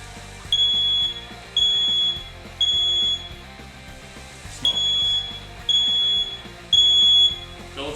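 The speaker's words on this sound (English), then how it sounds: "We set off the smoke detector that we put right over this thing." A smoke detector mounted above a Philips smokeless grill cooking steaks sounds repeated loud shrill beeps in groups of three, close and piercing over a faint background hum.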